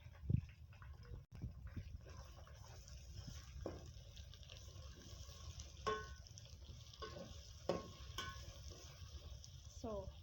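Tomatoes frying in a pot of onions for pilau give a soft, low sizzle under faint stirring and occasional utensil clinks, quiet and steady with a few scraping sounds.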